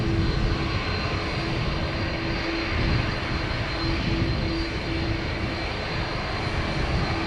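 A Ryanair jet departing Dublin Airport for Bergamo gives a steady, loud engine roar with a droning tone, heard from a distance with no voices.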